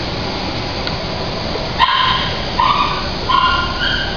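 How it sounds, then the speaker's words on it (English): Several dogs at an animal shelter bark and whimper, with short yips and whines coming in bursts at close range and no one speaking. "we got a lot of dogs today"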